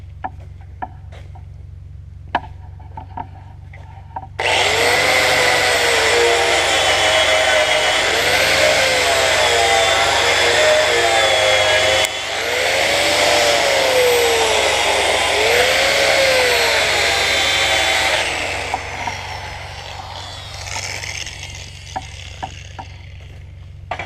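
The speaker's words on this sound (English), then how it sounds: "take a little bit of a wire wheel and get down in there" A wire wheel grinds against metal in a shop, a loud sustained whine with a wavering pitch that runs for about fifteen seconds, dips briefly partway through, then trails off into quieter rattles.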